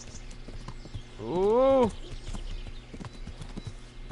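A horse in the medieval game Kingdom Come: Deliverance gives a loud, close rising whinny lasting about a second, over a busy in-game background of thumps and hoof-like taps, with a man's brief exclamation nearby.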